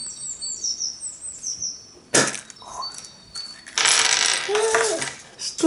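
A plastic surprise toy capsule from an ice cream toy set snaps open with a sharp click, followed by further plastic clicks and rattles close by, over faint high whistling tones in the background.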